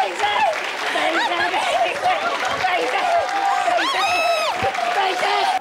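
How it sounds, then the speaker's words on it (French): A French television talk-show studio audience applauds in a steady wash beneath loud overlapping voices and a bright, tuneful sound. "On applaudit Damien."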